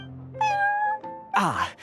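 A cat in the video game Genshin Impact meows twice close up, a drawn-out tonal meow followed by a shorter, rising one, with no talking.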